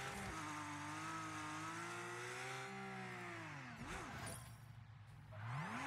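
Car engines rev and tires squeal in the PS5 game Destruction AllStars, a sustained, rising and falling engine whine with a brief dip and a renewed surge at the end, no speech.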